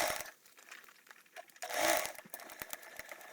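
A sewing machine basting the side of an insulated tote bag, a short quiet burst of fast mechanical stitching with small clicks and a slight rattle, close by.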